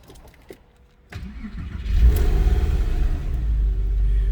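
Engine of a 1999 Porsche 911 Carrera coupe cranking into life after a few faint clicks, then settling into a steady, deep idle rumble close by; no talking.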